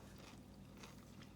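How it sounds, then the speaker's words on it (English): A big bite into a falafel in pita with a crisp, crunchy fried outside gives soft, close crunching and chewing noises, quiet and continuous over a brief moment. "there's a crunch in there from the outside of the falafel"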